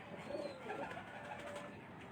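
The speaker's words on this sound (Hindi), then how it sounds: "ये परवाज़ी कबूतर है" A small male flying pigeon coos softly and close, with faint bird calls and a steady hum behind it.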